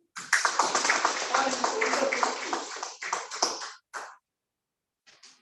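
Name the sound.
audience applause for first-time evaluator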